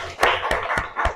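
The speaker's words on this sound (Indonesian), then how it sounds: "Kita kasih tepuk tangan dulu untuk kelompok 1" A classroom group claps for the first team after its presentation, with four or five distinct, evenly spaced hand claps that sound close and loud, with no talking.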